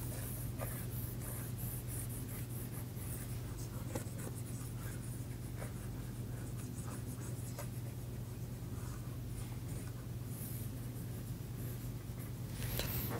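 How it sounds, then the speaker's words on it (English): Steady pen or chalk writing by hand during an engineering lecture, continuous close scratching strokes over a constant low hum of room noise, with no talking. "I'll just write it down."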